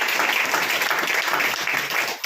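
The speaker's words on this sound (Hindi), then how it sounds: "जोरों के साथ ताली के साथ" A church congregation claps loudly and continuously in thanksgiving, a dense wash of hands close by with no pauses.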